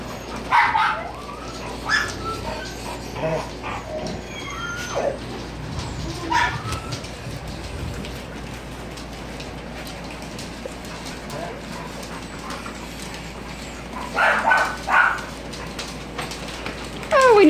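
Dogs in a house pack whimpering and giving occasional short barks, scattered bursts near the start, around six seconds and again near the end, over a low steady background with people talking.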